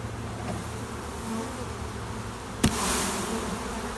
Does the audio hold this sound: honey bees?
yes